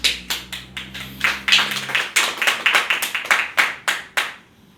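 A small church congregation claps for the Lord in a steady rhythm, about sixteen sharp, even hand claps over a few seconds before they stop, with a faint low hum underneath.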